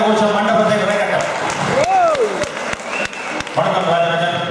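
An audience at a live comedy and mimicry show in Sydney claps, a dense steady patter heard under a voice speaking over it, with sharp sporadic claps standing out.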